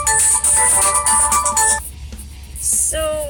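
A phone ringtone plays loudly and close, a bright repeating electronic melody that breaks off briefly and then starts again, with no talking over it.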